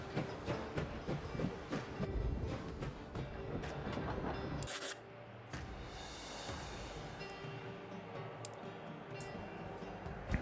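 Train rolling along rails in the video game Last Train Home, a steady dense rumble with repeated clacking ticks, briefly dropping at mid-point before carrying on loud and continuous.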